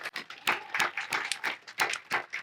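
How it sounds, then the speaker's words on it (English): Applause from an audience at a Veterans Day ceremony, a scattered crowd of hands clapping in quick, uneven bursts, moderately close and with no talk over it. "Give yourselves a round of applause for showing up."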